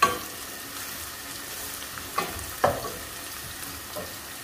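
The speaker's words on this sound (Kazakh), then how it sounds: "Пиязым жақсылап қуырылды. Бір араластырып жібереміз жақсылап тағы да." Onions fry for shakshuka in a pan, giving a quiet steady sizzle with a few light scrapes and knocks as they are stirred.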